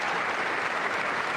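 A State of the Union audience claps in a dense, steady burst of applause, loud and even from start to finish with no break.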